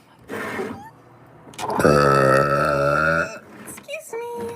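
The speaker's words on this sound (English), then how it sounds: "I have to burp." A child lets out a long, loud, drawn-out burp lasting over a second, close to the listener, with brief sounds from the child just before and after.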